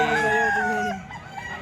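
A kanawain gamecock rooster crows once, loud and close, the call fading after about a second into quiet background.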